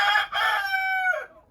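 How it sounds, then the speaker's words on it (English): A young rooster from a backyard chick batch crows once, a loud, close, clear cock-a-doodle-doo with a brief break early on and a falling tail, heard alone without talk. "It's a pretty rooster."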